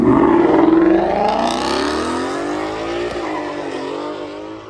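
At a street racing takeover, a car does a loud burnout: the engine revs hard while the tires squeal in a rising, wavering screech that stays close and continuous for several seconds.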